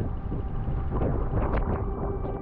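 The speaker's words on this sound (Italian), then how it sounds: "ma comunque c'è il vento." Wind buffets the microphone while a bicycle is ridden in Sicily. The roar is low and continuous with no talk over it.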